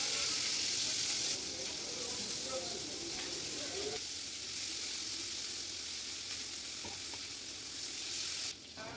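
Potatoes fry in hot oil with dried red chilli, giving a steady close-up sizzle throughout, with occasional stirring and a brief change near the end.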